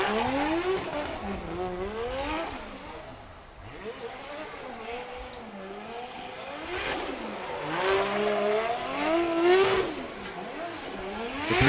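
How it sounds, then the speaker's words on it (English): Drift cars at Formula Drift Japan 2019 at Okuibuki, with engines revving hard and rising and falling as tires are warmed up, with occasional squeal, loud and continuous throughout. "Gray will warm up his tires second"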